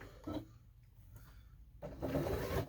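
A sewing machine runs a steady stitch around the edge of a fabric placemat, close and continuous, briefly easing off in the middle before speeding back up, with no voices.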